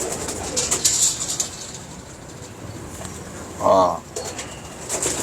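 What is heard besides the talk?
pigeons cooing and flapping wings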